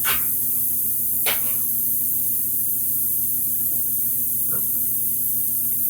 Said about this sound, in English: I'm misting on some Mr. Color GX Yellow, and I'm kind of getting this effect.